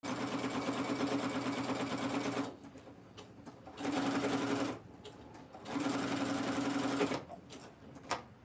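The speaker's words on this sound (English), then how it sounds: "the needle I have in this machine is a denim needle because it's thicker fabric." A sewing machine fitted with a thick denim needle stitches cow print shorts in three long, steady bursts of rapid whirring separated by pauses of near quiet, close and alone.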